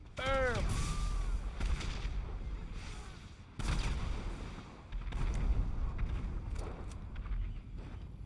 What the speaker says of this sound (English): You throw a little sticky bomb up there.